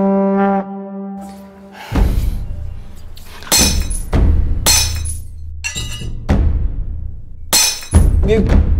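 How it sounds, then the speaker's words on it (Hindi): A ceramic bowl and cups break in a series of sharp crashes and shattering clinks, several separate loud impacts spaced a second or so apart, following an opening tonal drone, with no talk over them. "क्या टूटा? एक कटोरी टूट गई"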